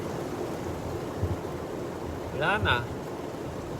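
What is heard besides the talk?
rain getting heavier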